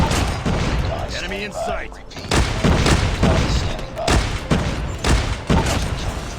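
Grenade launcher firing in a mobile shooter game, a string of heavy thumping booms at a steady pace, loud and close, with a brief voice announcement early on.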